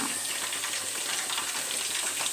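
Drumstick pieces fry in oil in a pan for a drumstick pickle, giving a steady, loud, dense hiss and crackle with no pauses and no talking.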